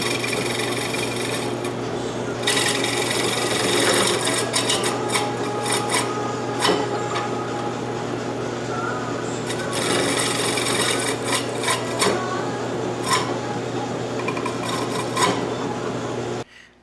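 Wooden bowl being turned on a drill press, a steady loud motor hum under continuous rasping, scraping tool-on-wood noise with bursts of cutting that come and go, no talking.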